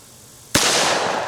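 A single loud, sharp pistol shot firing a PET reloaded round cracks out after a quiet lead-in, its report ringing and decaying through the rest of the moment.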